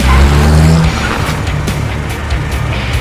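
A van speeds away in a movie car chase, its engine roaring loud and close with tires skidding and squealing as it pulls off, the motor noise staying steady and strong throughout.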